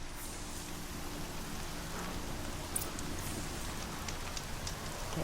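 Steady rainfall in the Horizon Zero Dawn video game world, a soft continuous hiss of drops with a few faint patters, constant and without pauses.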